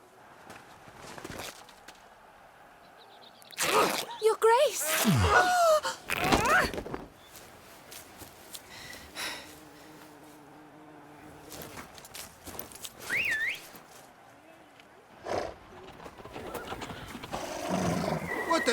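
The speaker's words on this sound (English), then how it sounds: "Horses? Ready our horses!" Horses in the Witcher 3 video game stamp and shift about with clip-clop hooves and a neigh, heard in scattered bursts between spoken dialogue and short musical hits.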